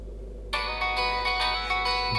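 A Redmi 12C phone ringtone starts abruptly and plays a bright, tonal melodic pattern over a low steady hum.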